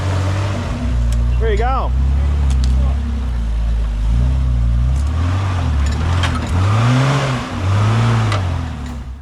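A Nissan GQ Patrol off-roading on steep wild ground, its engine loud and close as it revs up and down in repeated surges, with a person talking over it.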